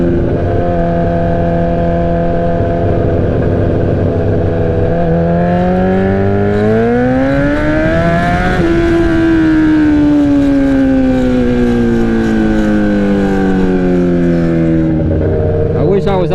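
A 2007-2008 Suzuki GSX-R 1000 motorcycle revs hard, its engine pitch climbing steeply, dropping and climbing again in a loud, sustained howl over about sixteen seconds, with wind noise throughout.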